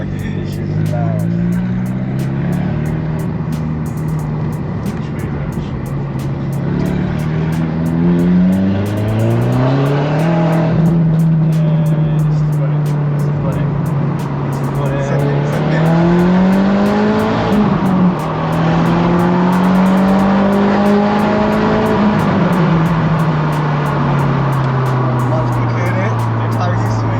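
A loud, tuned Audi S3 8L 210 APY drives close by, its engine note rising and falling through the gears with a raspy exhaust, while a person talks over it.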